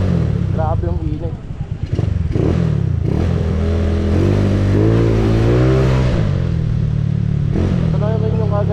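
Motorcycle engine running and revving up and down, loud and close throughout, with rising and falling engine tones and some mechanical clatter.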